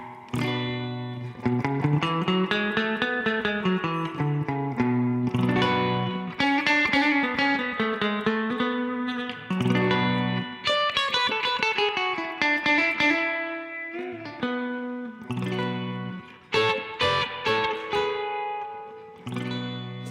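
Electric guitar with distortion, reverb and chorus effects playing a melodic line in the B Dorian mode, sustained notes moving up and down at steady loudness, alone with no talking.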